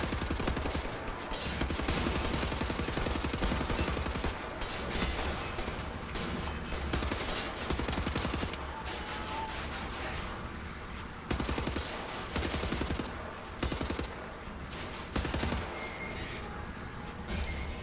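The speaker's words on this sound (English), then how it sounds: "the shotgun actually works a lot better in this part" Shotgun blasts and heavy combat gunfire in the first-person shooter Wolfenstein: The New Order, dense and loud, with repeated bursts layered over a constant battle din.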